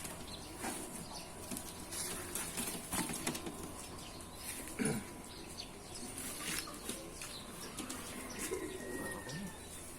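Racing pigeons in a loft, with soft cooing, occasional wing flaps and scattered clicks over quiet background noise, faint and intermittent.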